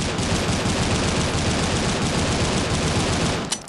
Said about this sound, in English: But when you tap fire, things get a little crazy